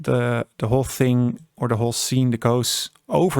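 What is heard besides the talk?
No everyday noise stands out behind the speech.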